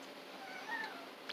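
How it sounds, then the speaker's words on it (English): A feral tuxedo cat outdoors at night gives one quiet, thin, drawn-out meow midway, faint against steady background hiss with no talking. "I need to stop feeding this neighbor's cat."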